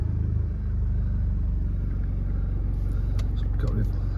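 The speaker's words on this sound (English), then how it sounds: "Start the car up." A Jaguar XE 2.0d R-Sport automatic diesel saloon with about 117,000 miles holds a steady, low, close idle rumble, with a few faint clicks near the end.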